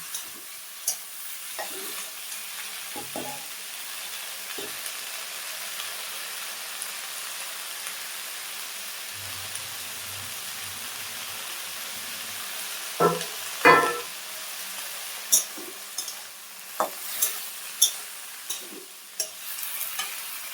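Shrimp fry in a pan with beans, carrot, potato, eggplant, spring onion and green chilli, a steady sizzle broken by sharp scrapes and knocks of stirring, louder toward the end, without speech.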